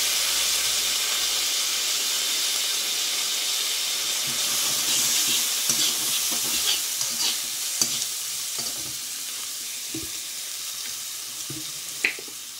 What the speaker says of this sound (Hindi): थोड़ा सा शिमला मिर्च डालेंगे। अच्छे से फ्राई करेंगे।